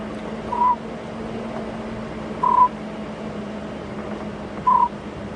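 Three short, clear hooting whistles spaced about two seconds apart, a human imitation of a scops owl's call on an evening safari drive at Djuma Game Reserve, over a low steady background hum.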